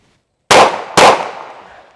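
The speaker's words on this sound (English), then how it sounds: "This one is draw from 7 yards and shoot 2 headshots." Two sharp pistol shots about half a second apart, loud and close, each with a short decaying ring, fired after a draw from concealment at 7 yards.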